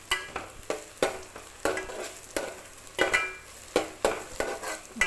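Onions and garlic sautéing in a pan for Tamil-style fish curry, a steady sizzle broken by repeated sharp scrapes and stirring clatters of a spoon against the pan, close and fairly quiet.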